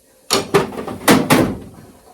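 A household drawer is handled during decluttering, giving four sharp knocks and slides in two pairs, close and fairly loud, with no talking.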